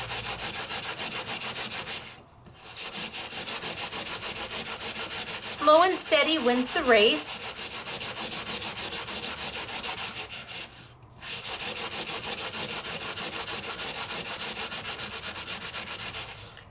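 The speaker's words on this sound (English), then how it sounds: "it's better to take your time to go over this again and again, lightly sanding." Light sanding across a paper surface, a steady continuous rubbing abrasion that runs nearly throughout, with brief pauses between strokes and a short spoken remark mid-way.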